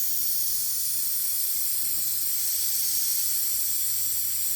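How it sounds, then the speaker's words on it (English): An air compressor runs in a workshop, giving off a loud, steady hiss with no break throughout and no voices. "The air compressor kicked on."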